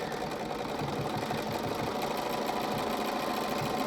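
A sewing machine stitches the edges of English paper-pieced fabric shapes in a continuous, close rhythmic hum that holds steady throughout.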